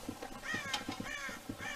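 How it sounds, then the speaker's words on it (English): Crows cawing in the video game Red Dead Redemption, several harsh repeated caws in quick rhythm, fairly close and loud, with no talking. "God damn crows!"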